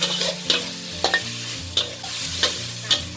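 Mixed vegetables stir-fried in a pan with sauce and added water, a loud continuous sizzle broken by repeated sharp scrapes and clanks of a spatula tossing the food at an uneven rhythm.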